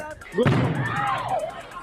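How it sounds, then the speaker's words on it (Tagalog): A sudden blast bursts out of a burning public market in Caloocan City, a sharp explosive crack followed by a rumbling roar that tails off, with voices and crowd noise underneath. "Maya-maya pa'y isang pagsabog ang narinig mula sa nasusunog na lugar."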